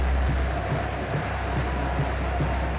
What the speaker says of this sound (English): Another great crowd here at Sporting Park